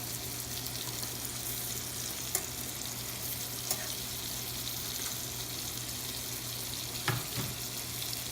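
Cod fillets frying in melted butter in a pan over medium heat give a constant close sizzle, broken by a few sharp clicks and small spatters, with no talking.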